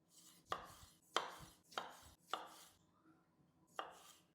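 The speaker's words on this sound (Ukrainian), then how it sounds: "Беремо помідорки черрі. У мене тут 7 штучок. Розрізаємо навпіл." A knife slices cherry tomatoes in half on a cutting board, giving five crisp chops in a steady rhythm, close and quiet with no talking.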